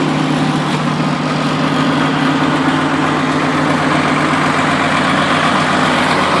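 A Case 850E long-track six-way bulldozer idles nearby, a steady low diesel rumble with an even, unchanging drone and no voices.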